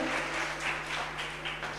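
Applause from an audience at a Jain temple gathering approving a donation for temple kalash, a dense steady wash of many hands clapping throughout, with a faint low hum beneath.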